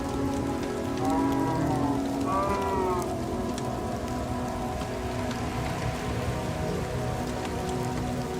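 Steady, close rain on a surface hisses throughout a Minecraft world, with a few brief tonal animal-like calls rising early on before the downpour continues alone.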